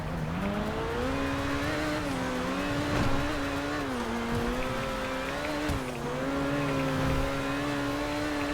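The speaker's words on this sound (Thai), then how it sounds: "โอ้สตาร์ทเครื่องมาก็เสียงใช้ได้เลยนะเพื่อน" Entity MT supercar engine in GTA V Online, running and revving with a steady, loud, harmonic drone that rises and dips slightly, with a few brief bumps along the way; no voices.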